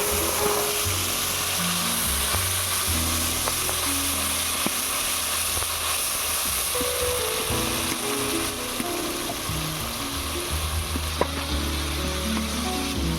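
Onion, tomato and green chili paste frying in mustard oil for a fish jhal, a dense continuous close sizzle with occasional spoon scrapes and a low hum underneath, steady throughout with no talking.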